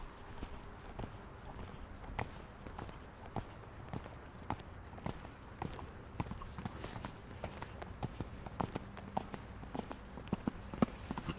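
Horse hooves clip-clop at a steady walking rhythm throughout a riding lesson in an arena, close and moderately loud, with soft background noise between footfalls.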